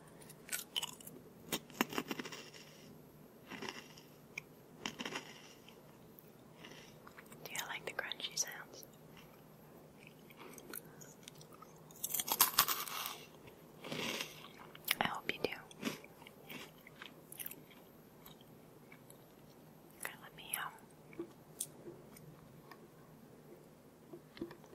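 Crunchy snacks chewed and crunched close to the mic in an ASMR session, with irregular bursts of crunching, soft mouth sounds and quiet whispering in between.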